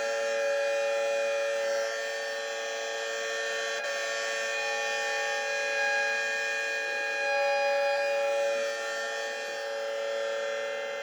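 An outdoor warning siren sounds during a tornado warning, a steady distant wail that holds for the whole stretch with slight swells in level, heard alone with no voices.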